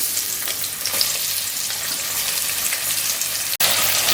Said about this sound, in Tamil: ஃபர்ஸ்ட் ஆஃப் ஆல் வந்து நம்ம யூஸ் பண்ண வேண்டியது வெங்காயத்தை போடுறேன்